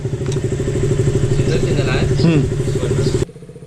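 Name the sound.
two motorcycles riding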